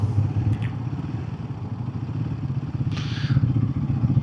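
A Royal Enfield Guerrilla 450 is being ridden, with a steady, close engine rumble and pulsing exhaust throb under rushing wind, plus a couple of brief clicks and scrapes.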